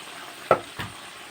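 Tamarind juice and turmeric simmer for a pickle of large amla, while a spoon scrapes the pan twice in two short strokes over a faint, steady sizzle, with no talking.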